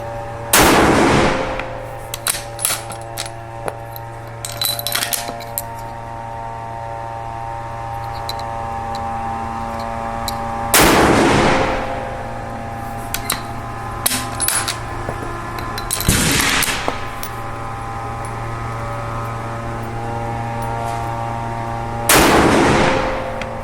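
Four sharp, loud rifle shots from a precision F-Class rifle set on a Seb NEO X front rest, spaced several seconds apart, each ringing out over a steady low hum with small clicks and handling noises between.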